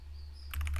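Keys tapped on a computer keyboard while code is entered, a quick cluster of close, crisp clicks starting midway after a quiet hum.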